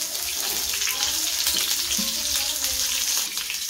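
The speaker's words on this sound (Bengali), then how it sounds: "বাকি কপিটা আমি ভেজে নেব" Cauliflower pieces fry in hot oil in a pan, producing a loud, continuous hissing sizzle with light crackles close by.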